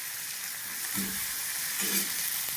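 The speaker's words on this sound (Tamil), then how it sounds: "அடுத்து சின்ன வெங்காயம் போட்டு நல்லா வதக்கிடலாம்" Small onions sauté in hot oil with mustard seeds, fennel and dried red chillies, giving a steady close sizzle with a couple of brief stirring scrapes.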